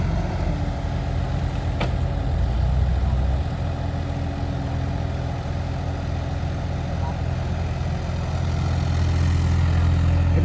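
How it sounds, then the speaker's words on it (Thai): A Kubota excavator's small three-cylinder diesel engine idles steadily in a rubber plantation with a low, even chug that holds throughout, loud and close, with a brief faint click early on. "คูปต้านะครับผมเครื่องยนต์สามสูบครับผม"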